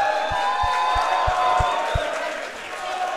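Crowd cheering and applauding at a Super Smash Bros. Melee tournament for the Peach player Trif after a losers top 8 set, a steady loud roar of the audience with a few low thumps along the way.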